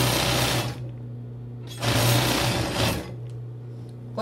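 A sewing machine backstitches along a bra strap on a padded bra, two loud bursts of running stitches separated by quieter idle hum, close and with no talking.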